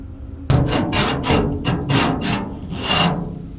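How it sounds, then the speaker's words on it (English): Slow, deliberate scraping across the roof of a Holden car in a horror tale, a series of rasping strokes, close and loud, repeating at an uneven pace with short gaps between them. "But then came another scrape, this time directly overhead."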